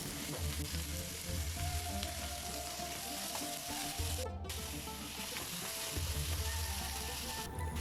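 Onion, garlic, red chilies and peanuts frying in a kadai, a steady close sizzle with scraping stirring clatter throughout, and no talk.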